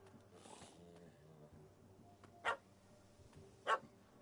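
Two sharp barks from a dog in The Witcher 3, about a second apart, standing out over a quiet game ambience with soft background music.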